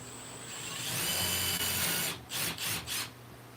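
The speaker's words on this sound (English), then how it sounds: "we're drilling into the piece of wood" A power drill whirs as a bit bores into wood, rising steadily, then pulses in three short bursts before stopping, close and fairly loud.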